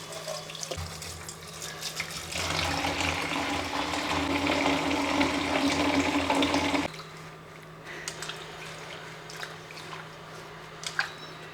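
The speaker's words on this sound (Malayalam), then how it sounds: "മുരിങ്ങയിലൊക്കെ നടത്തി എടുത്തിട്ടുണ്ട് ഇന്ന് കഴുകിയെടുക്കട്ടെ" Drumstick leaves are washed under a running kitchen tap, the water gushing and splashing steadily for several seconds before it stops, followed by quieter drips and handling sounds.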